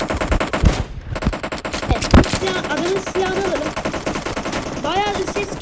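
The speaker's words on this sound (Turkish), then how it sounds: "İşte silah sesinden dolayı belki duyamayabilirsiniz." Rapid bursts of gunfire crackle continuously in PUBG Mobile, with someone talking over the shooting.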